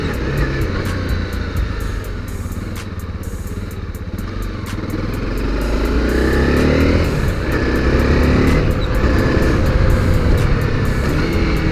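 A Honda CRF250L motorcycle is ridden nearby, its engine a steady rumbling drone that climbs and grows louder partway through as the rider speeds up, with no talking.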